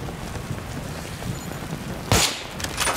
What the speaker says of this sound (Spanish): Buen disparo.